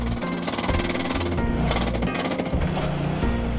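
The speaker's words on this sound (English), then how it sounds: "Continue driving the Truline sheet until it's even with the previous sheet." Truline seawall sheet piling being driven into the ground, a loud continuous rapid hammering like a jackhammer, steady and close with brief dips in intensity.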